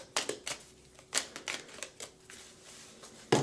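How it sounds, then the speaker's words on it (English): Tarot oracle cards, a Divine Doors Mini deck, shuffled by hand in quick papery riffles and slaps, close and crisp, with irregular bursts and short pauses. "All right, so first we are going to shuffle."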